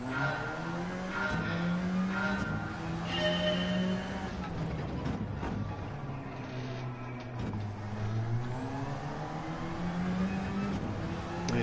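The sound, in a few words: race car driving in video game Gran Turismo 7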